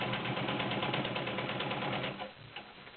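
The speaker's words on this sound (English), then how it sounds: "the sound that you do hear is actually the bobbin case spinning" A serviced vintage Imperial all-metal heavy-duty sewing machine runs with a steady fast whirring hum and the spinning bobbin case ticking beneath it, then winds down toward the end; close and fairly quiet, no voices.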